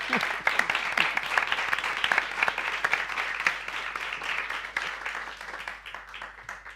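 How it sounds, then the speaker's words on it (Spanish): An audience at a Costa Rican literary festival applauds a panel, a dense burst of clapping with distinct individual claps that continues steadily and tapers slightly toward the end. "Sí, bueno, un aplauso a esta mesa"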